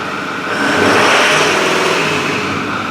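A Ford 6.4 Powerstroke diesel with a clogged exhaust and lacking power revs up off idle, a loud, close, steady roar rising after half a second and holding through the rest.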